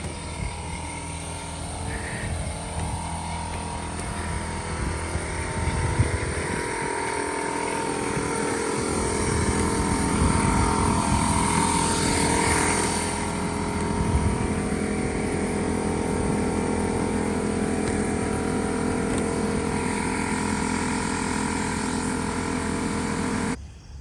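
An air compressor forces air through a pool skimmer line as part of winterizing, making a loud, steady mechanical drone and rushing noise that runs throughout, with no talking.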